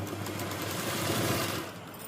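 A sewing machine stitching a kurti neckline facing, a low steady mechanical hum with a faint rapid chatter of the needle running continuously, fairly quiet, easing slightly near the end.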